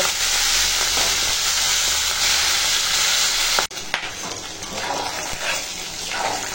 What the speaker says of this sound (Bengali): এখন কাতলা মাছের এই তেল পটকাটা ভাজা হচ্ছে